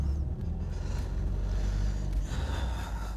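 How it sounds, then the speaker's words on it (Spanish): A 1977 Ford Taunus GT coupé engine idles with a steady, deep, purring rumble up close, holding an even throb throughout with no voices. "Sonido realmente muy del auto, ese ronroneo al regular, muy característico del Taunus"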